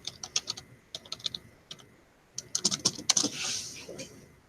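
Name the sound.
typing a password on a computer keyboard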